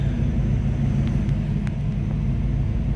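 A 1933 Ford street rod's engine runs nearby with a steady, deep, even rumble and no talking.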